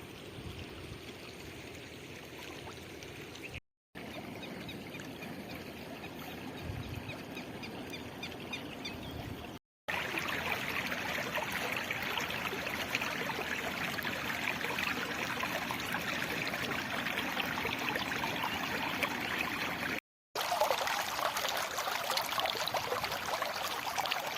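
A river runs fast after days of heavy rain, giving a steady, close rushing and hissing of water. It continues unbroken apart from a few abrupt dropouts, with no voices.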